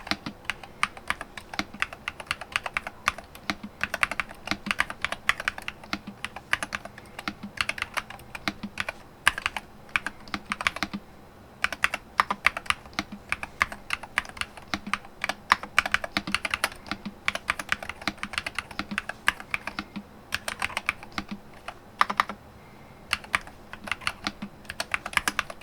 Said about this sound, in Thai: ผมอยากจะให้เพื่อนๆฟังเสียงการพิมพ์ของ สวิตช์ตัวนี้ก่อนนะครับ